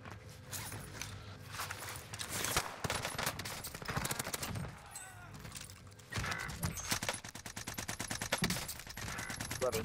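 Hip-firing the C58 rifle in Warzone on Rebirth Island gives rapid bursts of crackling automatic gunfire, broken by short pauses, with footsteps, gear rattles and brief talk mixed in.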